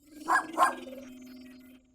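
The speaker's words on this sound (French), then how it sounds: "Un petit chien!" A small cartoon dog gives two quick, close yaps, followed by a steady tonal hum that fades out.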